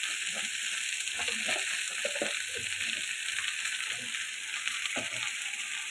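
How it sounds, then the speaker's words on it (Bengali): Bitter gourd and potatoes fry with garlic and onion in a pan, giving a steady, close sizzle with scattered stirring clicks and scrapes; no one speaks. "করলা, আলু সব কিছু আমি এখন একই রসুন এবং পেঁয়াজের সঙ্গে ভেজে নেব।"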